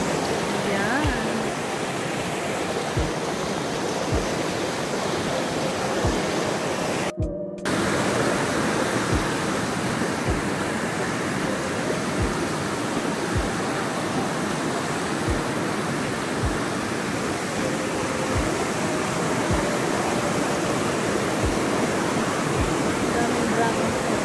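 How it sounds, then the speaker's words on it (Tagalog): Stream in the Philippines rushing in a loud, constant broadband wash, with a brief dropout early on and faint regular thumps beneath the flow. "Ano lang yung sapa."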